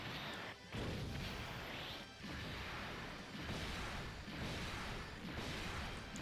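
Heavy, continuous crashing and booming from a final explosion attack in the Dokkan Battle mobile game, loud and sustained with a few brief dips, no talking over it.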